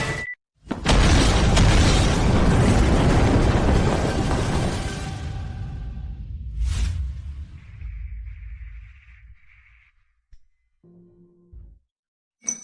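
A firecracker sets off a leftover wartime landmine: a sudden loud boom with a long roaring, crackling blast that slowly fades, followed by a sharp later burst, a faint ringing tone and scattered quieter sounds.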